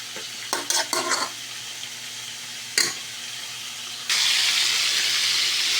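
Chicken fillet frying in a pan, with a steady sizzle running throughout, a few scraping stirs near the start and a louder, brighter burst of sizzling in the final stretch.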